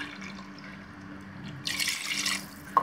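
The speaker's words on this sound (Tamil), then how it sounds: "நான் வந்து இப்போ ஓப்பனில் வச்சு வேக வைக்கிறதுனால கூட ஒரு 1/2 டம்ளர் தண்ணி விட்டுக்கிறேன்" Water is poured into rice for Tirunelveli-style chicken biryani, a broadband splashing pour starting partway through and running steadily for about a second before a small clink.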